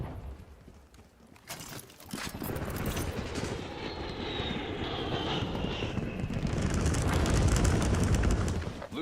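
A strategic bomber roars over in a video game, a deep engine rumble rising after a brief quiet start and building to a broad, sustained drone with a thin whining tone, no voices.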